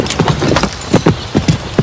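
A horse's hooves clip-clop close by in a quick, uneven rhythm of sharp hoof strikes, loud and clear with no talking.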